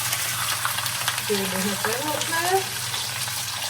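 Food fries in a pan with a steady, close crackling sizzle that stays even throughout, while a voice murmurs faintly underneath.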